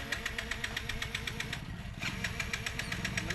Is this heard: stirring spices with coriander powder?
no